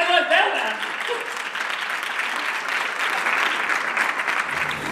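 An audience applauds at a performance, a loud, continuous burst of many hands clapping that swells early and holds steady, with a voice heard briefly at the start.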